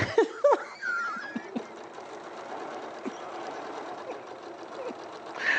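A sewing machine stitches pieces of a quilt block together, a steady, fast mechanical whir running close and continuous after a few brief clicks and a short voice at the start.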